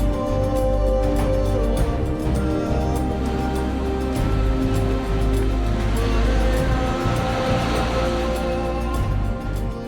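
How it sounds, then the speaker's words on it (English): Indian Ocean surf pounding coastal cliffs that border desert, a continuous loud roar of breaking waves with a deep rumbling undertone, with a low steady hum and faint narration beneath. "the Indian Ocean hammers cliffs that shield the vast deserts beyond"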